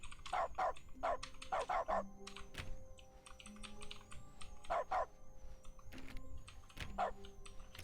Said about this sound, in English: every time I press E, it makes a dog barking noise instead of a keyboard clacking